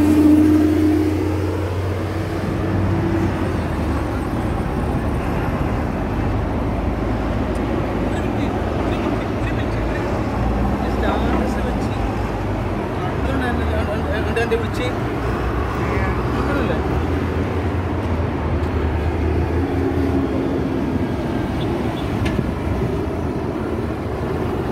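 Rush-hour car traffic flows through Fahaheel, Kuwait as a steady, dense roar of engines and tyres. The rumble stays constant throughout, with occasional rising engine surges.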